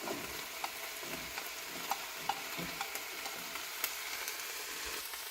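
Capsicum, onion and green chilli sauté in a pan with a soft, continuous sizzle, dotted with faint clicks and light scrapes from stirring, close and low in level.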